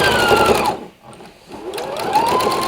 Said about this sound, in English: And just sew all the way through.